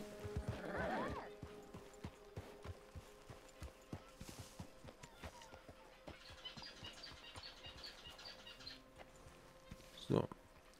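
A horse whinnies near the start and again near the end in Red Dead Redemption 2, with soft hoofbeats clopping in a loose rhythm between.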